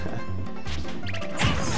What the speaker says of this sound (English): Oh, Yoshi with the up smashes,